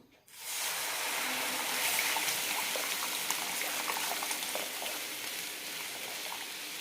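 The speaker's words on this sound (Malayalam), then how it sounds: "ഇനി ഇതേ പാനിലേക്ക് തന്നെ ശർക്കരപ്പാനി അരിച്ചൊഴിക്കാം" Strained jaggery syrup pours into a hot pan, a sudden loud sizzle and bubbling hiss that starts abruptly and continues steadily, easing slightly toward the end.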